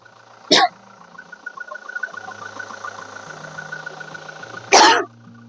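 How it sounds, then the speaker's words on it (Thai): A 2015 Toyota Hilux Revo 2.4 pickup truck engine idles with a steady low hum, interrupted by two sharp coughs near the start and end. "เครื่องยนต์ดีนะคะ ฟังดีเสียง นิ่ง ติดง่ายค่ะ"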